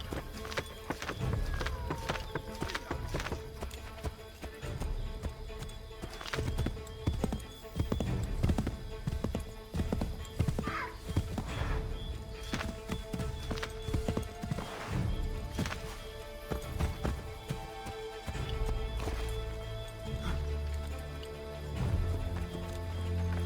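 Horse hooves clatter at a gallop in the Assassin's Creed III game, rapid irregular thuds with a brief whinny, over game ambience and occasional voices, fading toward the end.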